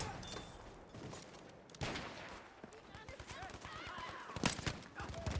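Nagant Revolver gunfire in a Battlefield video game: a chaotic spread of battlefield shots and bursts from several directions, with faint voices in the mix and a loud blast near the end.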